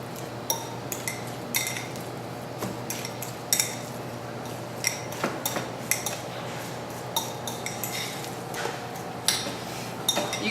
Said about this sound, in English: Kids, a lot of times mash this together with a fork.